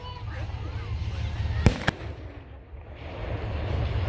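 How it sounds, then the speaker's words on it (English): A fireworks show outdoors over grass, with two sharp, quick bangs ringing out at a distance over a constant low background rumble. "We're just gonna record the fireworks show."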